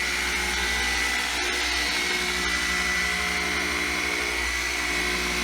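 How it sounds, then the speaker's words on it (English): A machine polisher works over car paint at a moderate speed setting, a steady, loud whirring drone held close for the whole stretch with no talking over it. "This is where we get into seriously polishing, so we're going to step it up to about 4 or 5, and this is where we do the polishing."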